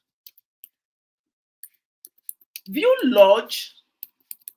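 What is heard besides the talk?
typing a search on a computer keyboard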